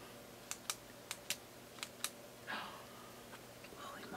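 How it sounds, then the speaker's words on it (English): A clicky pen snaps several times up close, six sharp clicks in uneven pairs, then a soft rustle and handling noise in a quiet room. "And then we have this style clicky pen."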